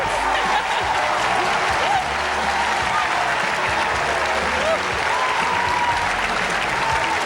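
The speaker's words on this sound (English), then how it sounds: "I knew the crowd would go crazy for Charlene Gonzalez." Loud, dense applause and cheering from a packed pageant audience at the Miss Universe 1994 contest in the Philippines, a continuous roar filling the whole stretch with no break.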